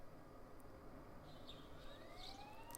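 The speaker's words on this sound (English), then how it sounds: "And sirens are in the distance" Faint distant police sirens wail in the Persona 4 Golden game scene, a thin rising tone sweeping upward over a low background hum, quiet and far off with no talk.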